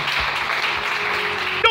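A church congregation applauds and cheers for the Lord, a steady wash of clapping from many hands that fills the space evenly, then ends with a brief louder burst.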